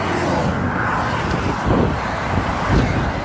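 Traffic on a busy highway, a loud steady roar of passing vehicles with a couple of swelling whooshes as cars or trucks go by close.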